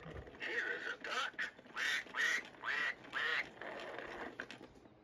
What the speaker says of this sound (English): Here is a duck. Quack,